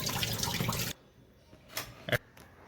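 Freshly scaled fish pieces being rinsed under running tap water, a steady close splashing wash for about a second, then quiet with a few brief drips and clinks.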